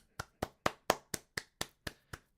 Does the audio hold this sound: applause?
yes